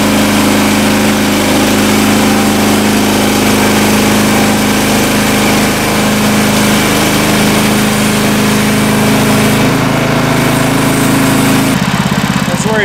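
A sawmill engine drones loudly and continuously while a large log is sawn into boards, with a steady low hum and a shift in pitch near the end as the cut changes.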